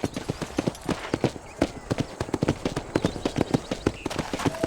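Horse hooves clip-clopping at a quick, uneven gallop across ground in the Red Dead Redemption game, dense overlapping thuds close by, with faint game noise underneath.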